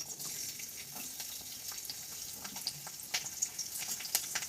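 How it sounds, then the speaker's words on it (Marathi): Garlic dropped into hot oil for a Marathi takla greens recipe sizzles quietly and steadily, with scattered small pops and crackles throughout and no voices. "गरम तेलात पहिल्यांदा आपण लसून टाकू"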